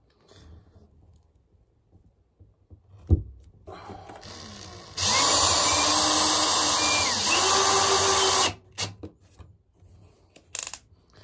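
A power drill drives small screws into hinges for a chicken coop trap door, a loud steady whine lasting a few seconds with a brief pitch dip midway, framed by handling clatter and knocks.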